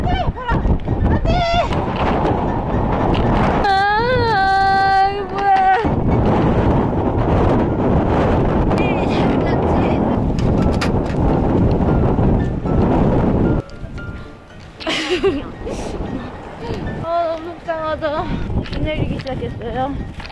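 Strong wind off the sea on Ulleungdo roars steadily against the microphone during fishing, with people talking and calling out over it for most of the stretch before it eases slightly near the end.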